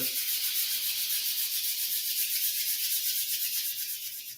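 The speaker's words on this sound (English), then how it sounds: "Inhale, rubbing the palms together." Palms rubbed briskly together during a kundalini breathing meditation, a steady close dry swishing friction that holds for several seconds with a faint rhythmic pulse and no talking.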